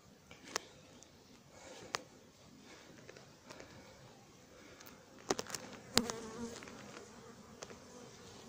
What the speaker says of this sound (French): Mais je pense qu'il y a beaucoup d'abeilles quand même.